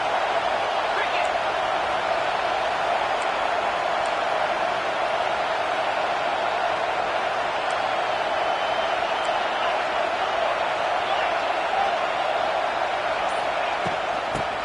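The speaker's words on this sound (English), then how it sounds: "This crowd knows when to bring it." Steady, loud roar of a stadium crowd at an American football game in Madden 25, a dense continuous wash of cheering that never lets up, with a commentator's voice talking over it.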